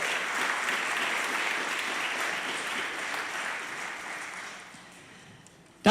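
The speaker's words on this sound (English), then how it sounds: "That's worthy of some applause in 2022." An audience at a school board meeting applauds steadily for several seconds, gradually fading, with a brief loud noise at the very end.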